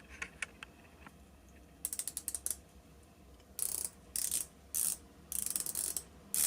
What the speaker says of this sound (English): let's quickly have a look at the bezel action on each of these beauties